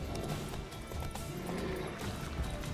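A horse in The Witcher 3 clip-clops with irregular hoof thuds over a gritty, continuous game background, faint and without voices.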